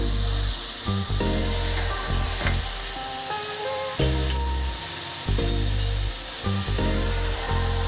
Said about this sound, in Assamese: কালজিৰাখিনি ফুটিবলৈ লৈছে।